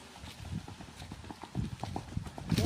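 Horse hooves clip-clop in a steady, rapid raval gait, the ambling pace of a horse offered for sale, with close, fairly loud footfalls that quicken slightly toward the end and no voices over them.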